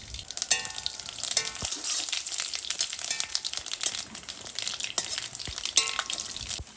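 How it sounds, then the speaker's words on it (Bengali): Panch phoron, a bay leaf and dried red chillies sizzle in hot oil with potatoes, a crackling spitting hiss broken by sharp clinks of a spoon stirring against the pan. "পাঁচ এই তেজপাতা আর শুকনো লঙ্কা পাঁচ ফোড়ন দিয়ে দিচ্ছি"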